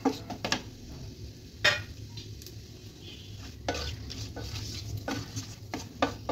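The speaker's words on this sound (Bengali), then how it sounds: "এবার ভালোভাবে আমি এটাকে এতে ভেজে নেব" Dried chili, green cardamom, cinnamon and bay leaf fry in oil for cauliflower roast, a soft sizzle under occasional spoon clinks and stirring scrapes against the pan.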